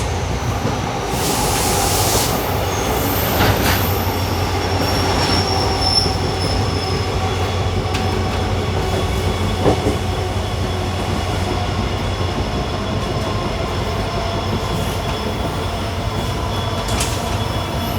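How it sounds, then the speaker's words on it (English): A fast Mangaluru–Bengaluru express train runs at speed past a freight train loaded with steel coils, giving a steady loud rumble of wheels on rails with faint squeals, heard from on board without talk. "We are skipping Soldevanahalli halt and overtaking a freight train."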